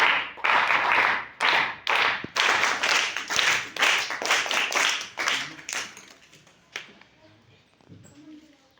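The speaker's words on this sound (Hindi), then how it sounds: "एक बार खुद के लिए तालियां बजा लीजिए।" A class of students in a fractions maths lesson bursts into lively hand clapping for themselves, a busy patter of many hands that gradually thins out and fades to a few last claps.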